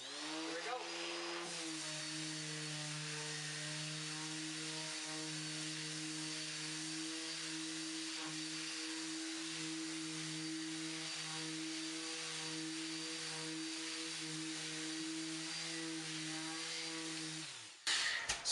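A floor sanding machine refinishing a hardwood floor starts up and runs with a loud, steady droning hum and whine that stays constant for most of the clip before cutting off near the end.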